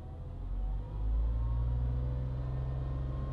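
A Porsche engine idles with a low, steady rumble heard close by, rising briefly in intensity near the start before settling into an even drone, with no talking.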